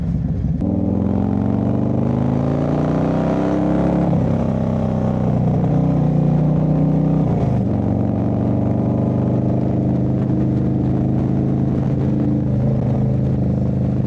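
A Harley-style 107 cubic inch motorcycle engine with a Stage II upgrade runs loud and close, its exhaust note rising and falling through a series of downshifts and throttle blips with a steady deep rumble underneath.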